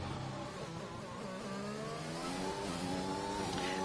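An Alpine Formula 1 car's engine in the F1 2021 racing game at Baku screams steadily upward through the gears on a hot lap, a continuous high-pitched racing whine with no talk over it.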